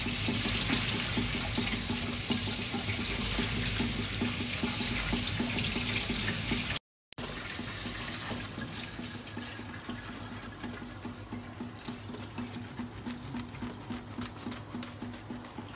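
Cut midin fern vegetables being washed under a running tap, a loud steady gush of water splashing into a sink, briefly cut off, then resuming softer with scattered splashes and clatters.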